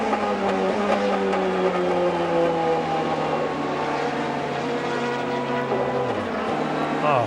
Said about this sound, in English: That just sounds to me like the ignition cuts out.